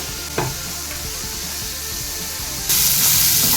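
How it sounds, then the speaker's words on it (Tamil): Chayote pieces for sambar sauté in a hot pan with a steady sizzle and occasional stirring clatter, the frying hiss swelling louder near the end; no talking. "இதை வந்து சவுட்டை வந்து வதக்கிட்டுருக்கேன்"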